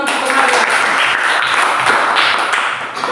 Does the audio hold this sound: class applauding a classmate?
yes